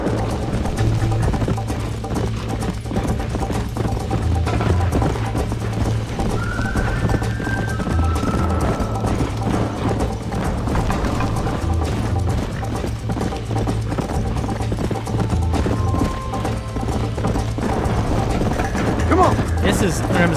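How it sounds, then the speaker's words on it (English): Continuous galloping horse hooves with occasional whinnies during a horse race in Red Dead Redemption, steady and loud throughout, with a low droning hum underneath. "Absurdly long horse race."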